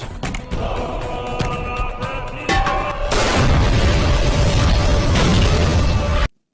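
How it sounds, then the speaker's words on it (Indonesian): A thrown gas cylinder explodes in an Indian action film: a loud, sustained blast roars and rumbles, with a heavy explosion surging in midway and debris-like crackling filling the sound before it cuts off abruptly. "Kavi selamat dari ledakan tabung gas yang dilemparkan oleh Maya"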